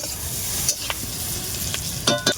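Spices crackling and sizzling in the oil left over from frying eggs, with a steady hiss throughout and a few sharp stirring scrapes and clinks near the end.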